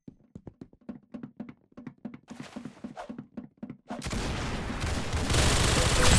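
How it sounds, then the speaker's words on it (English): Rapid gunfire pops in a quick, evenly spaced string of sharp shots, with a short louder burst, then gives way to a dense roaring wash of noise that swells toward the end; no talking. "That's some beautiful shooting right there."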